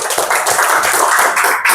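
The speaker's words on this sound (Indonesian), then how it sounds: "tepuk tangan dulu untuk temannya" A classroom of students claps for a classmate, a dense, bright patter of many hands sustained for under two seconds, close and fairly loud with no talk over it.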